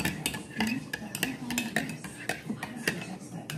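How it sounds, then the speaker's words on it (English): A spoon stirs a mug of hot drink with marshmallows, giving rapid repeated clinks and scrapes against the cup, close and busy, with voices nearby. "You want to stir yours?"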